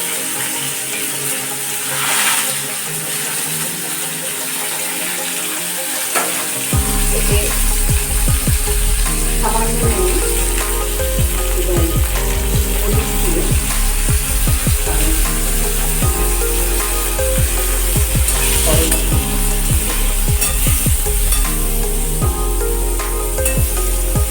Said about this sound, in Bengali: আমি প্রথমে করলাগুলোকে ভেজে নেব